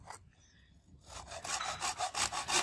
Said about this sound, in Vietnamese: Chúng ta dùng dao chặt hoặc là cưa.